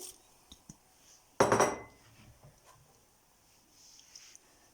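Vermicelli drops into a pot of sardine soup with a short clattering burst of pot and utensil contact, followed by faint kitchen clinks in an otherwise quiet room.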